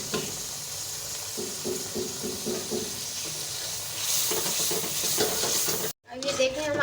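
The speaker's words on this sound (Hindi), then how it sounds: "ये देखिए हमारा मसाला फ्राई हो रहा है" Masala spices sizzle steadily in a hot pan while a spoon stirs and scrapes in a repeated rhythm, close and clear. A brief cut near the end is followed by louder sizzling.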